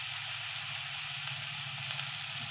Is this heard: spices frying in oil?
yes